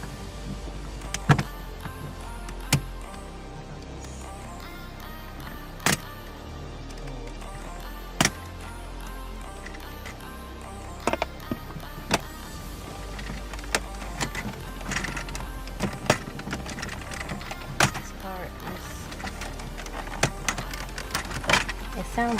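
Plastic trim clips on a 2013-or-later Mazda CX-5 dashboard pop loose as the factory radio is pried out: sharp, isolated snaps and clicks at irregular intervals over a low, steady background hum.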